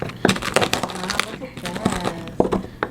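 Fried pork cracklings are smashed in a bowl while making mofongo, with close, irregular crunching and cracking bursts mixed with kitchen handling noise.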